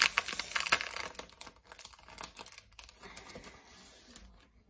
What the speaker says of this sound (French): je vais le déballer.